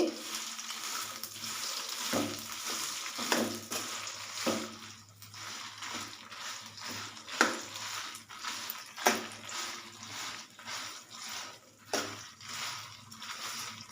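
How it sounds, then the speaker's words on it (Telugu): Red chillies crackle and sizzle in about fifty grams of hot oil for gongura pickle, a steady frying hiss broken by occasional stirring scrapes and pops. "యాభై గ్రాములు ఆయిల్ పోసానండి వేయించడానికి"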